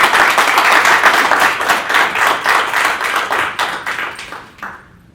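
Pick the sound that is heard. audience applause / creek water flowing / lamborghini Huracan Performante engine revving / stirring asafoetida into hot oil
audience applause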